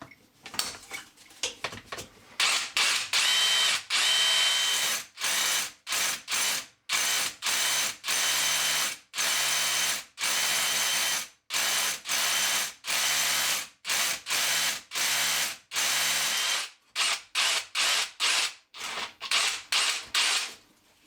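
Hammer drill boring through a brick wall to fit an outside tap, loud and close, its rattling percussive drone running in repeated bursts separated by short pauses.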